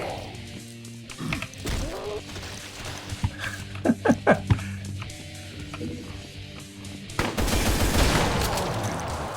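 Gunfire from the Brutal Doom video game, a burst of sharp repeated shots mid-clip amid dense game noise and low rumble, with a louder roaring barrage near the end.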